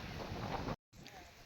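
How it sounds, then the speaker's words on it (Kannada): A light wind blows through an areca and coconut field, a soft steady rush buffeting the microphone, broken by a brief silent cut before continuing more faintly. "ಸಣ್ಣ ಗಾಳಿ ಬೀಸುತ್ತೆ ಫ್ರೆಂಡ್ ಹೊಲದಲ್ಲಿದ್ದರೆ."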